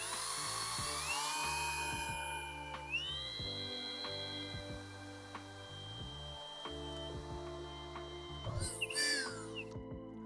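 Drilling holes into an aluminum plate, with a high whining drill motor that spins up, holds a steady pitch, and stops, plus clicks and handling sounds nearby.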